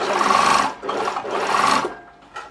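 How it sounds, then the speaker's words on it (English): A sewing machine stitches a centre seam with backtacking at each end, whirring loud and close in two long runs with a short break between them and a brief final burst. "right sides together we're going to sew down that center, back tacking at each"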